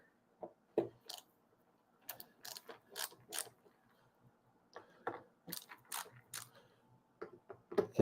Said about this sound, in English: what I always do with these is I always I loosen the screws a little bit